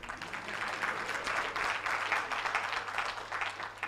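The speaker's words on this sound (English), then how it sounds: "I want you to clap on this." Steady, dense applause from a symposium audience in Nairobi, a continuous wash of many hands clapping at even loudness throughout.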